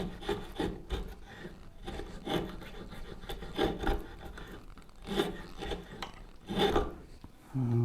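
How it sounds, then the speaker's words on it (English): Files and rasps work the wood of turned bow saw handles in repeated rough scraping strokes, about one every second, close and moderately quiet. "file and rasp work"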